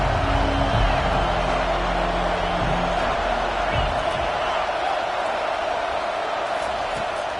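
A football stadium crowd sends up a loud, sustained roar of welcome that holds steady for several seconds, a dense wash of cheering with some low rumble early on.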